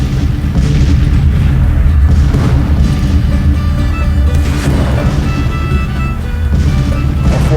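Cannon bombardment of a fort during a Civil War naval siege in the strategy game Grand Tactician: Civil War: loud, continuous low rumble with repeated heavy booms and crashes rolling over each other without pause.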